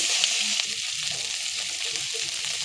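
Onion with ginger garlic paste sizzles and fries steadily in a pan, a loud continuous hiss with faint stirring scrapes running underneath.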